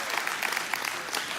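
An audience claps steadily through a short burst of dense, close applause with scattered individual hand claps, no voices standing out.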